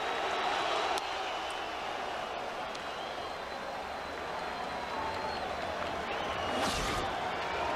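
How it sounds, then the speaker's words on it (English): Large baseball stadium crowd at a Dodgers NLDS playoff game, a steady roar of cheering and noise swelling near the end, heard from a distance under a broadcaster's commentary. "And listen to this crowd sensing the final batter perhaps tonight"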